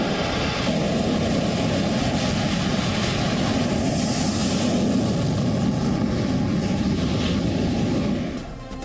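An LCA Navy fighter aircraft lands on an aircraft carrier, with a loud, steady jet roar that holds throughout and drops off abruptly at the end.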